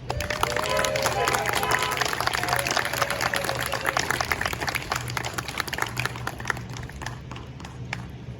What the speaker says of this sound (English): I just want to thank them all and give them a huge round of applause